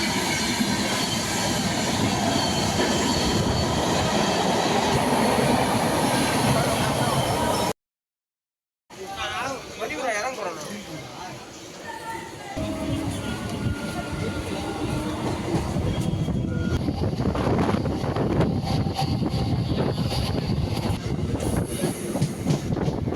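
An EMU suburban train runs on the Gummidipoondi to Chennai Central line, with a steady rumble, wheel clatter and squeal throughout. Sound cuts out briefly, then the running returns loud and continuous.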